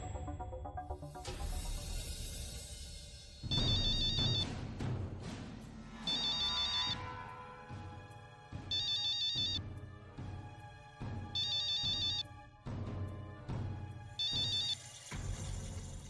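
A phone ringtone plays in repeated bursts, a bright electronic melody looping several times with short pauses between rings, close and clear.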